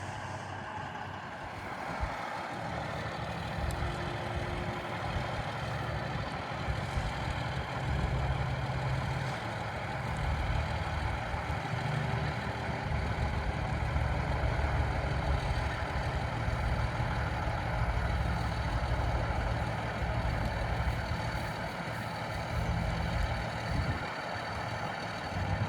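A truck engine rumbles steadily and loudly while maneuvering an old Nebraska schoolhouse into position over a foundation, a continuous low heavy drone with no break, close by.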